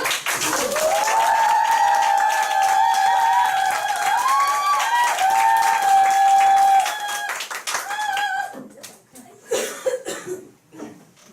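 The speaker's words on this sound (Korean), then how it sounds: "큰 함성 박수" A crowd at a Nu Skin business gathering bursts into loud, sustained applause with rising cheers and whoops, the clapping dense and steady before thinning into scattered claps near the end.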